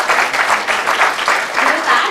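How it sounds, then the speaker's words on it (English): Audience applause for a panel at a climate disinformation event in Portland, a steady dense wash of many hands clapping, with a voice speaking over it. "So please give a round of applause to our rockstar panelists."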